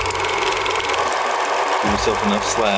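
An 8mm film projector's motor runs with a loud, steady mechanical whir and rattle, continuous throughout, while a person speaks over it.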